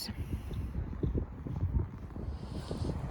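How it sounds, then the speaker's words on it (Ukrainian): Strong wind outdoors at a playground swing buffets the microphone with a continuous low, rumbling roar that swells and dips throughout. "Такий вітер дуже сильний."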